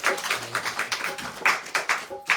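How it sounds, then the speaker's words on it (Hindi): An audience claps at an evening religious program in Seattle, Washington: a handful of irregular, close, fairly loud claps from a small group, with light background murmur. "उनके लिए ताली बजा दो सर"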